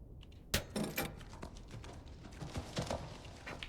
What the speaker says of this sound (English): Go away, horse sound.